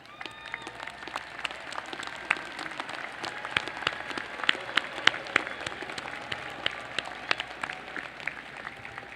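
Applause for scholarship students standing at a university commencement ceremony for engineering and science graduates, a large crowd clapping steadily with sharp individual claps popping out of a continuous, even wash of hand-clapping throughout.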